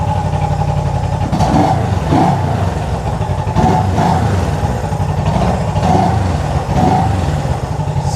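A vintage Honda CB360 motorcycle, low on fuel and with freshly tuned carburetors, rumbles loudly up close while being ridden, with repeated throttle swells rising and falling every second or so over a steady engine drone.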